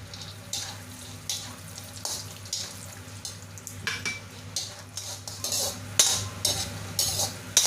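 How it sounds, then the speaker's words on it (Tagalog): Peanuts frying in hot oil in a pan, a soft continuous sizzle broken by repeated clinks and scrapes of a utensil stirring against the pan, fairly close. "mainit na yung ating oil. Ilagay na natin ang ating peanut."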